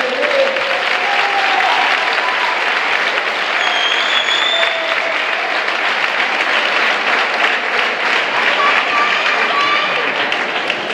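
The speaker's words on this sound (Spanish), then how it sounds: "Un fuerte aplauso para ti." A boxing-night audience gives a boxer a loud, steady round of applause after a bout, dense clapping filling the hall without pause from start to finish.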